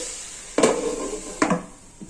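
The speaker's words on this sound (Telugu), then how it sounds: "మూత పెట్టేస్తానండి" Two clattering metal clanks a second apart as a lid goes onto a cooking pot of moong dal with capsicum and cabbage, each hit ringing briefly, then a faint third tap; close and clear, no talk.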